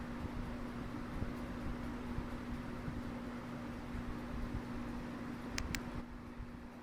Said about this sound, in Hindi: अभी मेरे रूम में फैन भी चल रहा है और कूलर भी चल रहा है